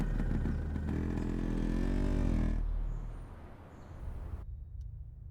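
A motorcycle engine revs loudly up close, a rough throbbing note rising and falling, then dropping away to a quieter idle rumble before it cuts off.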